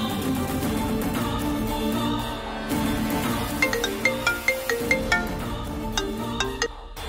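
A phone ringtone plays on an outgoing call, with a steady melodic tune carrying over a background music bed and rising into a run of repeated bright tonal pulses toward the end.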